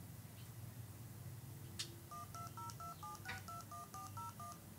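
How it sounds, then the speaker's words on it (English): DTMF telephone dialing tones from a MakeCode phone dialer built on an Adafruit board, a quick sequence of about a dozen short paired beeps in steady rhythm, faint over a hissy background. "that's the number being dialed"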